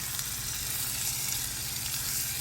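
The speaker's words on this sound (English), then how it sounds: "I'm going to add the whole can of the diced tomatoes." Whole can of diced tomatoes poured into a hot pan for chicken cacciatore, a steady broad sizzle with watery splashing running throughout, close and fairly loud with no talking.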